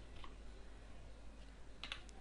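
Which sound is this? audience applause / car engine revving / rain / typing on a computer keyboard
typing on a computer keyboard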